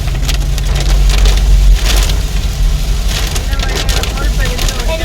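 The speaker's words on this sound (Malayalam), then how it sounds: "നല്ല മഴ കിട്ടിക്കൊണ്ടിരിക്കുകയാണ്." Heavy rain pelts a car in Goa, making a dense, steady crackling patter close by, with a voice talking under the downpour.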